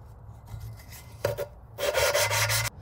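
An engine valve lapped by hand with lapping compound, close gritty rubbing strokes, one short then one longer grinding pass, over a faint low hum.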